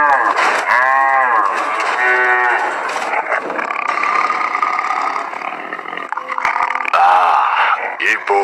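Cartoon cow lets out a long, loud, wavering moo that carries over dramatic music, then fades into a busy animated soundtrack.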